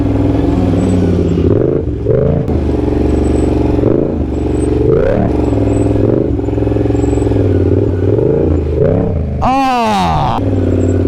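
Motorcycle engine revving hard and repeatedly through a stand-up circle wheelie with rough clutch work, the pitch swooping up and down in waves with a sharp high rev burst near the end, close and loud.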